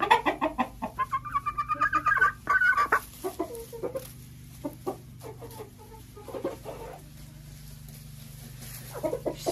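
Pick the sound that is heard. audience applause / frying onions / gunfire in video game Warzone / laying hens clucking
laying hens clucking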